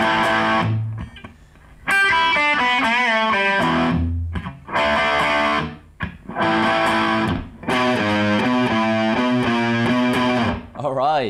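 Distorted electric guitar runs through a riff from the start, chord stabs and quick single-note fills broken by brief gaps, loud and close.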